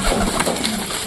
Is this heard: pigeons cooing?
yes